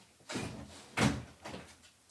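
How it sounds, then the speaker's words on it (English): A door is handled in three quick knocks and thuds, the middle one a firm close, heard faint and fairly close in a quiet room with no talk. "I need to close the door."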